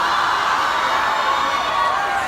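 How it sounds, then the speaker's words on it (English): A live comedy audience claps and cheers in a dense, steady wash of applause with scattered whoops. "Give the best friend a round of applause"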